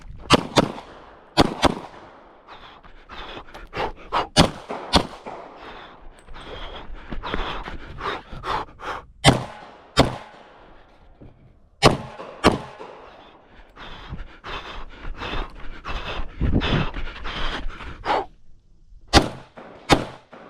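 Gunshots at IDPA shooting practice with a .40 caliber handgun and an AR-15, a series of sharp, loud cracks fired singly and in quick pairs with echoing tails across about twenty seconds.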